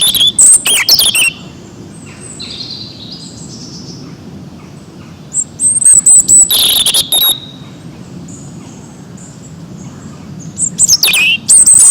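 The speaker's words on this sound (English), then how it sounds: "Children, I want you to first listen to the calls of the birds." Recorded bird calls play in bursts: sharp high chirps and tweets at the start, middle and end, with quieter insect-like trilling and a soft background hum in between.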